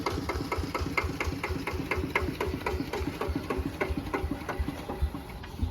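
A second-hand walk-behind tractor with an 11 hp ET110 engine runs at idle, a steady fast knocking chug with regular rhythmic pulses, close and moderately loud, with no voices.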